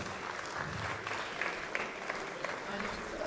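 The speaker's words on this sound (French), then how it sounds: "on les applaudit très fort." Audience at the SwissEurobot 2017 robotics contest applauding competing robot teams, a fairly quiet, continuous patter of clapping from a crowd in a hall, with voices and murmur mixed in underneath.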